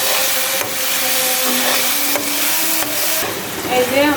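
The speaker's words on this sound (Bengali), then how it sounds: "এই যে আমার টমেটোটাও কষানো হয়ে গেল।" Tomato sautéing with turmeric and coriander in a pan gives a steady, close sizzle with occasional stirring scrapes and clacks running throughout.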